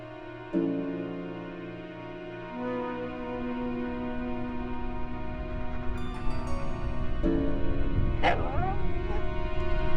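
A dog barks and yips in short bursts amid a busy room, with people talking and a television or music playing in the background.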